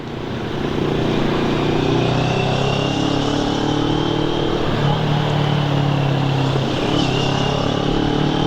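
Motorcycle engines drone loudly in heavy city traffic, with a Honda CBR 500 running close behind amid a steady, dense hum of engines and road noise, no speech.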